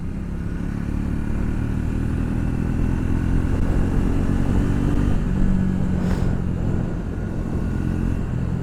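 A Triumph Speed 400 MY25 motorcycle's 40 PS single-cylinder engine runs steadily and close, a continuous low mechanical drone with slight rise and fall and no talking over it.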